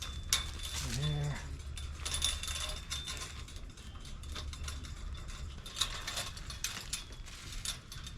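A come-along ratchet tensioning chain link fence outdoors, giving a quick burst of close metallic clicks early on, followed by scattered clinks and handling noises over a steady background hum.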